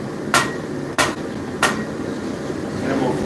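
A hammer strikes a small piece of hot forged metal at an angle to facet it. Three sharp, ringing blows land about a third of a second apart, close and distinct over a low shop hum.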